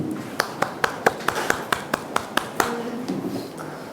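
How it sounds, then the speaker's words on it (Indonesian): Church congregation clapping during a worship service, a run of sharp, evenly spaced claps in a steady rhythm, fairly loud and close, with a faint murmur beneath. "Mari kita berikan tepuk tangan buat Tuhan."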